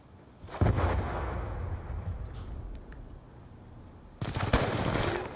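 Gunfire in a Call of Duty Black Ops 2 multiplayer match: bursts of rapid automatic shots and booming blasts, loud and close, with a brief lull before another heavy burst near the end, and no talking.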